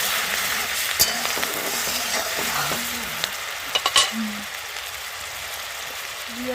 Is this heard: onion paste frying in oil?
yes